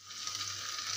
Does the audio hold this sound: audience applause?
no